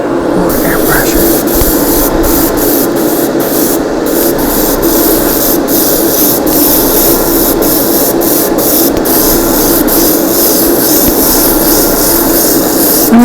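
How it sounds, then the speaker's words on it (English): An airbrush spraying paint onto a miniature terrain piece, a loud continuous hissing spray held steady throughout, with faint ticking clicks punctuating it. "More airbrushing."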